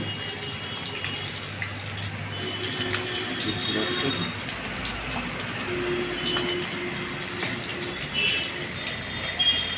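Fish fry in a pan with a continuous bubbling sizzle, close and fairly loud, and a voice murmurs faintly underneath at times.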